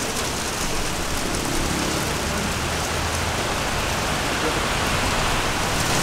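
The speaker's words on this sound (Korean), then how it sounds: "와 진짜 비가 갑자기 오네요. 딱 집 가는 순간에 비가 정말 많이 옵니다" Sudden heavy downpour in Surabaya, Indonesia, a dense, steady hiss of rain pounding surfaces close by, loud and continuous throughout with no pauses.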